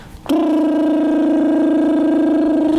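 A voice imitates an underwater bubble kiss with a sustained buzzing, bubbly lip trill lasting a couple of seconds, close and clear.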